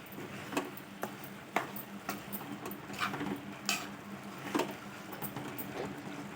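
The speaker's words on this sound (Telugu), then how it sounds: "వేసుకొని ఒకసారి అంతా బాగా కలిపేసుకోవాలి." Pieces of drumstick (moringa pods) are stirred in a pan for a village-style curry. A spoon scrapes and taps at irregular intervals against a faint sizzle, fairly quiet throughout.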